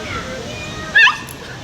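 Starfox, a dog in training, lets out a single short, sharp bark of frustration, loud and close, standing out briefly over a steady background with speech-like murmur around it.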